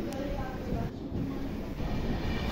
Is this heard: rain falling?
no